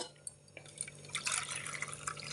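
Water pours from a cup into a semolina mixture in a bowl, a light trickling and splashing that builds in the second half, soft and close with no talking.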